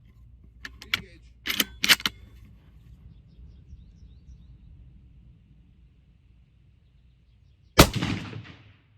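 A single sharp .308 rifle shot cracks out near the end, loud and close, with a short decaying echo. Earlier come a few faint clicks and knocks over a low outdoor rumble.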